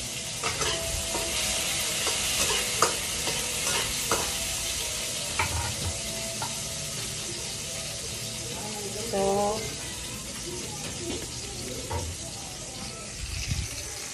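Tomatoes fry and sizzle in a pan with a steady, close crackling hiss, and occasional scraping stirs rise above it throughout.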